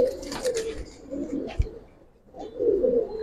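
Male Giribaz pigeon cooing in a low, throaty pattern, several soft rolling coos close by, with a brief pause midway before the cooing resumes.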